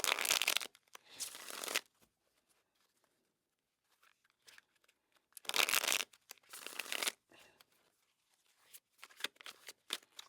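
Tarot deck shuffled during a weekly reading, heard as close, crisp riffles and swishes of cards in several bursts with quiet gaps between them. The card handling comes through alone, with no talking.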